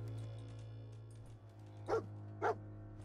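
In Fallout 4, the dog companion barks twice in quick succession, distinct and mid-distance, over a steady low game hum.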